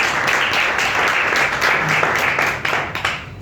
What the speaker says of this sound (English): Can we just have a round of applause for the team at Cartoon Network?